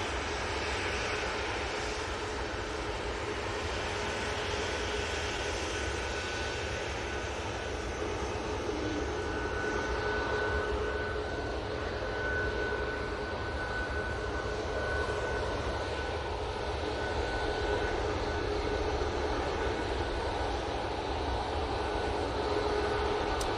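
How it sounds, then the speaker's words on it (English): A Ryanair Boeing 737-800 departing Manchester Airport for Berlin, its jet engines a steady, sustained roar at moderate distance with faint tonal whines running through the whole stretch, no voices. "Ryanair, ready to go off to Berlin using 737-800"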